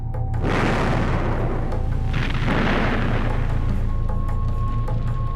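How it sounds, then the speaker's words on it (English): German artillery barrage pounding positions near a bridge held by British troops, with heavy booming shell explosions rolling one after another, loud and continuous with deep rumbling bursts around the start and midway. "With the tank assault repulsed, they switched to artillery."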